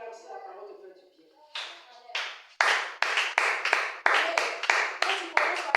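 Church congregation clapping together in a steady rhythmic beat that starts scattered and quiets, then grows into loud, close, evenly spaced claps; a voice speaks at the start.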